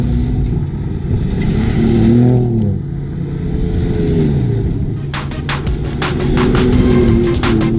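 A diesel Chevrolet ZR2 truck with a blue vinyl wrap revs on a desert off-road run, its engine note rising and falling in loud close pulls, with rapid clicking bursts in the second half.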